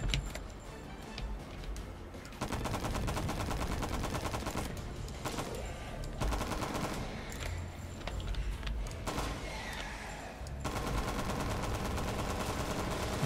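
Rifle fire in a video game crackles in dense, rapid bursts, loud and close, with short gaps between volleys and other game noise underneath.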